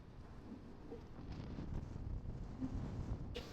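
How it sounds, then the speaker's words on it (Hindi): Strong, cold wind gusts across the open upper deck of a ferry at sea between Lithuania and Sweden, a steady broadband rush with faint buffeting and no speech. "ऊपर तो चल रही है जी फुल बटा फुल हवा, थोड़ी तेज हवा है।"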